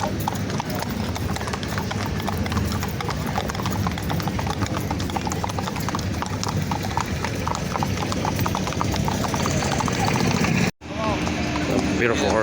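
Tall horse walking at NRG Park in Houston, steady rhythmic hoof clip-clop on hard ground close by, continuous over outdoor background noise with talking, ending in a brief cut.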